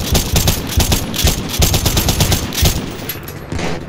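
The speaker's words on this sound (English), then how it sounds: "Man, I can't shoot with this machine gun" A machine gun firing in a zombie survival mode of a shooter game, loud rapid automatic bursts nearly continuous for several seconds with short gaps and no talk.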